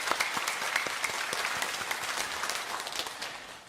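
A church congregation gives a long round of applause during a Sunday anniversary worship service, dense crowded clapping that fills the hall and stays loud and steady before easing slightly.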